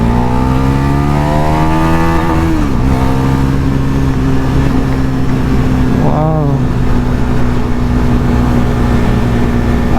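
A Bajaj NS400Z motorcycle with ride-by-wire throttle pulls hard on a city road, its loud, close engine note climbing through the revs, dropping at a gear change and rising again, while wind roars steadily throughout.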